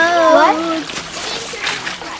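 Water splashes briefly during a children's outdoor game, mixed with excited kids' voices and an adult talking over the sloshing.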